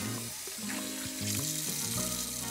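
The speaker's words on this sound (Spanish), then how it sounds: "Mojamos nuestras manos con abundante agua." Tap water runs at a bathroom sink while hands are wetted, a steady soft splashing hiss with shifting tones as the hands move under the stream, fairly quiet and with no talk.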